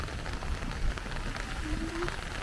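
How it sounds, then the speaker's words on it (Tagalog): Heavy rain falls steadily outdoors near a parked car, a dense continuous patter on surfaces at moderate level with a few faint background sounds. "Okay, grabing ulan."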